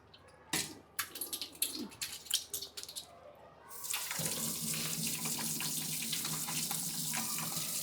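Running tap water gushes into a kitchen sink while something is washed under it, starting with scattered clatters and splashes, then settling into a steady loud stream.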